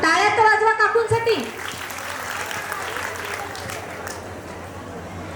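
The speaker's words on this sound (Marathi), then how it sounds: "टाळ्या तर वाजवा काकूंसाठी." Guests clapping for an aunt at a traditional baby shower gathering, sustained applause from a room of people after a voice speaks, continuing at even volume to the end.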